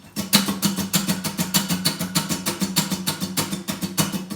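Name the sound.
acoustic guitar strumming every hit, wrist moving up and down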